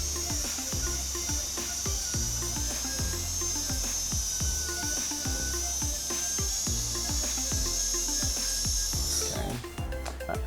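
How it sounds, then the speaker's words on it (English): A dental tapered burr trims excess resin from a tooth with a continuous high-pitched whine, over a rhythmic series of low scraping pulses. No one speaks. "So often I will use just a tapered burr here."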